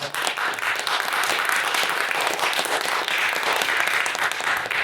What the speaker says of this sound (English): So, round of applause, I think, is due again.